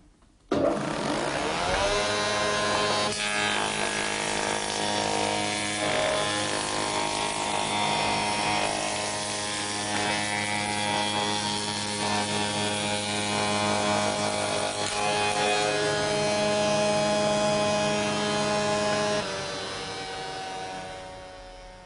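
A spindle moulder runs through wood with a loud, steady, high-pitched whine and cutting roar that lasts about twenty seconds before winding down near the end.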